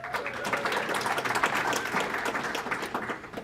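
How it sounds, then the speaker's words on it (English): An audience at a club meeting or ceremony applauds steadily with dense, sustained clapping throughout, fairly close and even in level, with no talking over it. "It's all right to applaud, that's good."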